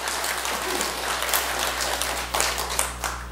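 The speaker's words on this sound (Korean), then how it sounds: "박수 한 분이 치면 따라서 치는 겁니다" Light applause from a seated audience at a Buddhist temple lecture, scattered hand claps that thicken into a modest patter over a low steady hum.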